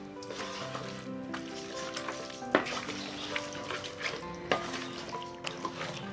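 Chicken pulao mixed with yogurt is stirred in a pot, Andhra style. A soft, steady sizzle runs throughout, with close spoon scrapes and knocks against the pot at irregular intervals.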